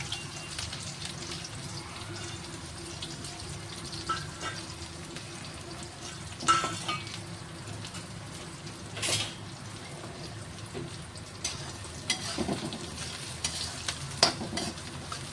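Cumin and onion frying in a pan for Gujarati dal fry and jeera rice, a steady low sizzle broken by a few brief louder stirring scrapes, close and with no talk.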